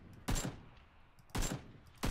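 PUBG gunfire: three separate loud shots or short bursts about a second apart, each with a booming tail, no voices.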